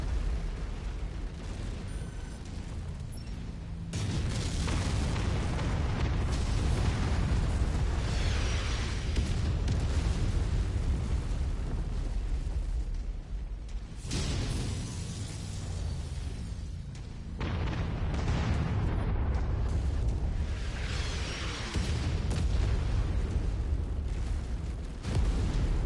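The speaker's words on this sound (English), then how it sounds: "Given how much artillery they've thrown at me after the fact." Artillery explosions in a video game, heavy and rumbling, rolling on almost without a break. Deep booms swell and fade in long waves, with brief dips between the barrages.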